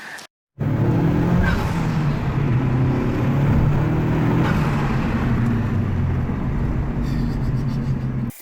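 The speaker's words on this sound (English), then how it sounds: "Jeez, this car sounds like amazing." A 2019 Honda Civic Type R (FK8) fitted with an Injen cold air intake roars loudly and steadily close by for several seconds. The engine holds a sustained high rev with a rough, throaty drone before cutting off abruptly.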